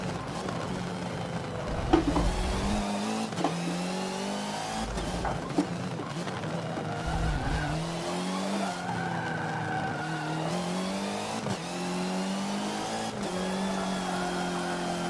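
Racing car engines rev and whine continuously while tires squeal and skid, with occasional sharp knocks, a steady racing soundscape from the video game Forza Motorsport 7 with no talking.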